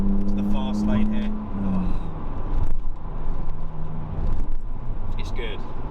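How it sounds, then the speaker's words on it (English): A BMW Z4 accelerates through the gears with a loud, close engine roar broken by sharp popping backfires, heard from inside the car while the driver talks. "now got some temperature, it's doing a bit of the backfires"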